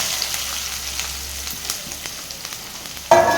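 Onions fry in groundnut oil after mustard seeds have popped, making a soft, steady sizzle with light crackles that swells suddenly into a louder hiss near the end, close up with no talking.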